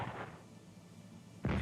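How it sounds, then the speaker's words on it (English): Artillery in the WW1 strategy game Strategic Command booms twice, a dull thud at the start and a louder, heavier blast near the end, separated by a quiet rumbling pause. "Oh, they're still doing the artillery. Firing artillery."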